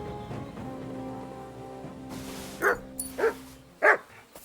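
Three short barks from Mutt, a dog in Kingdom Come Deliverance 2, ring out near and fairly loud at a camp, spaced about half a second apart over a steady ambient hum.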